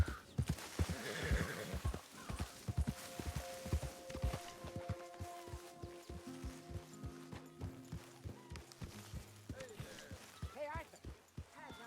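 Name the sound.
horse neighing and hooves, video game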